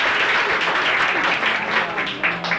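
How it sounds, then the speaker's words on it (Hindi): An audience at a school prize distribution for Class XII arts claps in a dense, steady burst of applause lasting under three seconds, with no pause. "एक बार हो जोरदार तालियां।"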